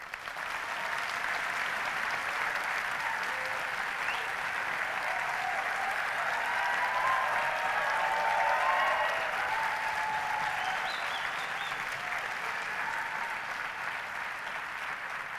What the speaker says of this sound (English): let's have a big, rousing round of applause for all of them